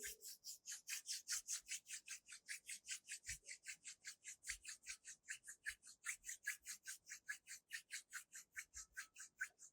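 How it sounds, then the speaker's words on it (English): Palms rub briskly together in a quick, even back-and-forth rhythm during a desk yoga routine, each stroke a soft, close, dry swish, about forty strokes in under ten seconds, alone and quiet. "Gently bring your palms together. Rub your palms."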